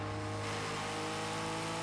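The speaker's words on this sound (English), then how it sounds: "Most of the cars have great engine sounds." Car engine and exhaust from the racing game Project CARS 2, a steady droning hum with strong tonal harmonics held for a couple of seconds, fairly even and continuous with no voices.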